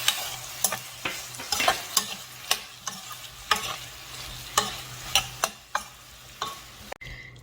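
Lotus root braising down in a pan with sesame oil and honey, a steady sizzle broken by repeated sharp scraping clacks of stirring, close and alone without talk.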